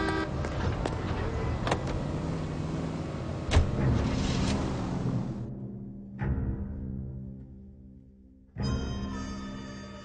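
A car driven in the 1940s Los Angeles crime game L.A. Noire, with a steady engine drone and road noise, a few short sharp knocks, fading out before another vehicle tone resumes; no talk.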